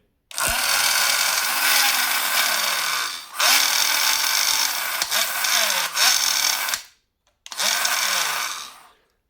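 A geared AliExpress servo motor whirs loudly and close in repeated runs. Its pitch sweeps up and down within each run, with abrupt stops and short silent gaps between the bursts.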